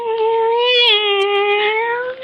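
A cat lets out a single long, wavering meow, loud and close, sliding slightly in pitch before trailing off.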